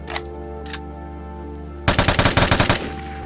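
L85A1 rifle firing in the video game Vigor: two faint isolated shots, then a loud rapid burst of about ten rounds in steady rhythm, ringing against a constant low game hum.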